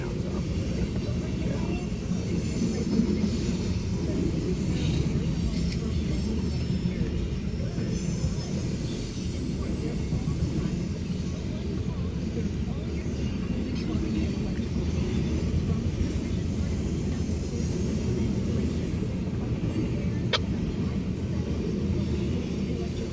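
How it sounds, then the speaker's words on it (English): A steady, heavy rumble of a passing freight train with empty coal cars and grain cars continues throughout, with faint metallic squeals and occasional talk over it. "There's an empty coal train."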